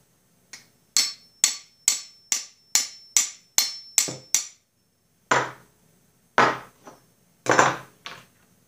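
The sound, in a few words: tapping snapper mower spindle part in with a socket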